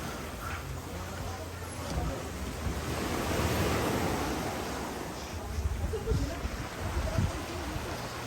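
Ocean surf rolling in at low tide around sunset near a Philippine dive resort beach, a steady broadband wash with gusts of wind buffeting the microphone and people chatting in the background.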